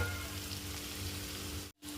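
Curry leaves and green chillies fry in hot oil, giving a steady close crackling sizzle that cuts out briefly near the end and then returns.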